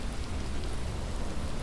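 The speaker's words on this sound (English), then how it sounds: "Oh, it's raining." Steady rain falls in the zombie survival game Dead Island, a dense, even hiss of drops with no breaks, loud and close throughout.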